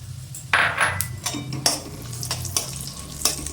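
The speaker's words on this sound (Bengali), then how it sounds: "জিরে ভাজা ভাজা হয়ে এসছে, এর মধ্যে থেঁতো করা লবঙ্গ, এলাচ, দারচিনি দিয়ে দিলাম" Crushed cloves, cardamom and cinnamon added to cumin frying in hot oil, with a steady close sizzle, a few loud bursts and light clinks of a utensil against the pan.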